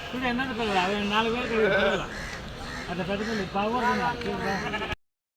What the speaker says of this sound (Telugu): ఇక్కడ మంది ఉంది పిల్లలు గొర్రెలు రెండు కలిపి ఉన్నాయి